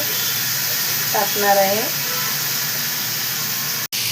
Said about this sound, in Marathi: आता धुतलेलं कारलं टाकत आहे कढईमध्ये